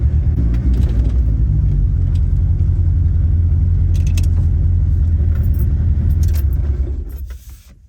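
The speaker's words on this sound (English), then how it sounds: "You don't realize how loud the car is until you shut it off" Loud, deep rumble of a Toyota AE86 GTS engine idling nearby, steady for several seconds before it cuts off and fades, with light jangling near the end.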